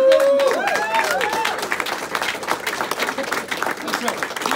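An audience at a Medicare for All speech claps and cheers, loud at first with voices rising over it, then settling into steady, slightly thinning applause.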